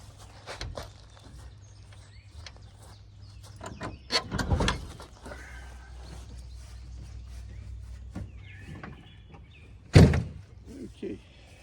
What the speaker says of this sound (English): Now, let's pull the door off.